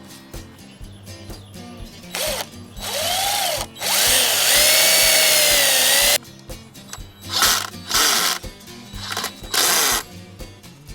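A power drill whirs in bursts, spinning up and winding down between several short runs and one longer sustained drilling stretch, close and loud.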